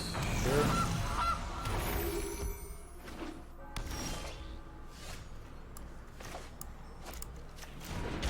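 Geese honk loudly and close at the start, then fade into scattered calls mixed with faint creaking.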